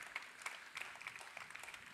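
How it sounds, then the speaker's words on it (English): Audience applause at a glassblowing guest artist demonstration, a steady patter of many hands clapping at moderate distance, lasting throughout with no talk over it. "I think they deserve a nice round of applause"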